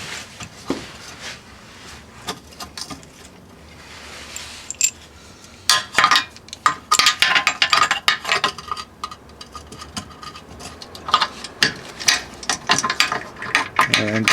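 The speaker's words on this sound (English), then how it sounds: "wiggle it around until that bolt goes all the way through and comes out the other side" Metallic clicks, clanks and rattles from a 1998 Audi lower control arm being wiggled until its bolt slides through, starting quiet and growing busier and louder toward the end.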